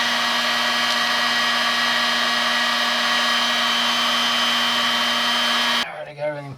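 Heat gun blowing steadily on heat shrink tubing over wiring for a race truck's air conditioning, a loud, close, continuous whooshing roar with a steady hum that cuts off abruptly near the end.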